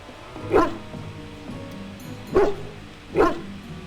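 Hound in Dragon Age: Origins giving three short woofing barks, the first alone and the last two closer together, clear and near over a low game ambience.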